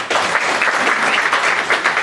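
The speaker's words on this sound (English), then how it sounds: "Can we give him another round of applause?" An audience at an African research summit gives a sustained round of applause, dense and even clapping from a large crowd filling the hall.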